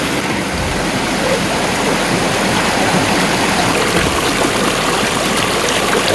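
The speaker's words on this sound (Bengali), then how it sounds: "সঙ্গে জলের আওয়াজ।" A mountain stream near Ghagra waterfall rushes loudly and continuously, a dense close wash of flowing water with no voices.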